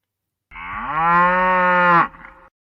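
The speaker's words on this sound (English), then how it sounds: "Felt like we needed a moo there." A single long cow moo inserted as a sound effect, loud and close, swelling steadily for about a second and a half before dropping off sharply, with no other sounds around it.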